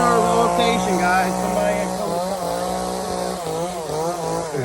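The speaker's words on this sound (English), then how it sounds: "Somebody had come. Chainsaw." A chainsaw runs steadily outdoors with a droning, buzzing engine note, loud and continuous, with a voice speaking over it.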